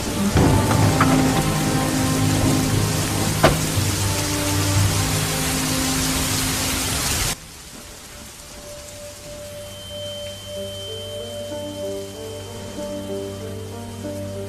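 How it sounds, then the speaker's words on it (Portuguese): Heavy rain pours steadily with a loud, dense hiss and a thunder rumble early on, then cuts abruptly to a quieter, muffled rain bed with faint tones. "agora tá chovendo bastante"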